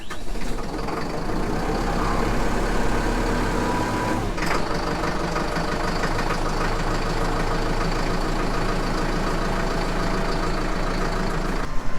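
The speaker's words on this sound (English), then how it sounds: "Fire the Kubota up." A Kubota tractor's diesel engine idles steadily after a cold start with the glow plugs still running, producing a loud, continuous close-up rumble with a brief knock partway through.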